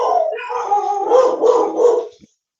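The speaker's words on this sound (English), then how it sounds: "Mo leaves and the dogs go crazy." Several dogs bark and howl together in loud, close, overlapping wails and yips that rise and fall for a couple of seconds, then cut off abruptly.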